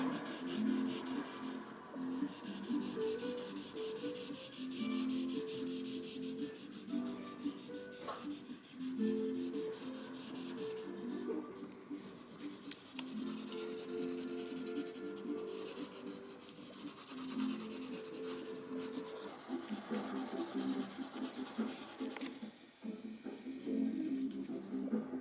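A lead pencil shades hard on paper in long, repeated rubbing strokes, a close dry scratchy rasp with a steady back-and-forth rhythm and no talking.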